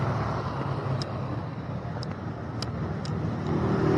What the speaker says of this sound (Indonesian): Wah, ada angkot juga nih.